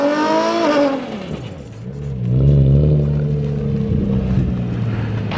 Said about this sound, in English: Rev it up really high, and then let out the clutch as fast as you can.